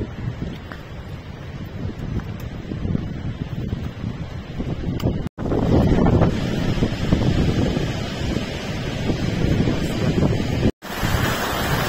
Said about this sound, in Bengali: দেওরালি থেকে এমবিসি যাওয়ার পথে রাস্তা এরকম বেশ কিছু ঝর্ণা পড়ে, যদিও এটা অনেকটাই পাতলা, ইজিলি ক্রস করা যাচ্ছে